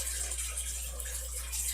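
Water pours quickly through an opened valve hole in a saltwater aquarium, a steady close hiss and gurgle running continuously.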